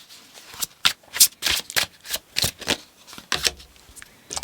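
Tarot cards being shuffled by hand, a close, crisp run of riffling bursts and flicks in an uneven rhythm, loud and with no one talking.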